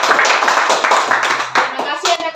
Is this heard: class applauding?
yes